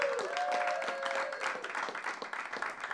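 An audience at an open music session applauds for Tony Shawcross, a steady wash of clapping from a small crowd with a brief whoop near the start.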